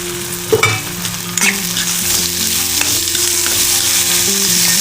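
Onions sizzle loudly in a kadai as a spoon stirs and scrapes them, with a few sharp clatters early on and steady frying throughout, no talking.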